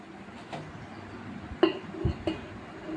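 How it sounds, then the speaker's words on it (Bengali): A lid set over a cooking pan of green beans, potatoes and poppy seed paste: a few light metallic clinks and one duller knock over a soft simmering hiss, all close. "আবারও একটু ঢাকা দেওয়ার পালা"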